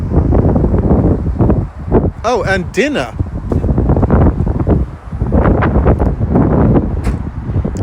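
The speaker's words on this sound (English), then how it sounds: "It's really windy here." Strong wind buffets the microphone in loud, gusty rumbles. People talk over it the whole time.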